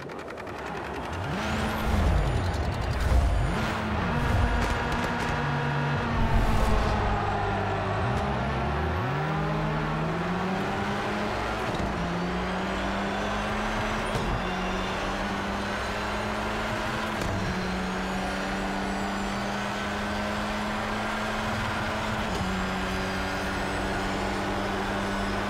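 Mercedes-AMG A45 touring race car engine in the Project Cars 3 racing game, revving hard off the start then holding a steady loud drone with gear-change dips as it accelerates, continuous and close with no talk.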